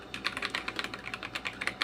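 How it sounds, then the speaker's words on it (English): Rapid, crisp keystrokes on an Onikuma G52 mechanical keyboard with blue tactile switches, a close, steady clatter of sharp clicks with no talking. "that's how the keyboard types"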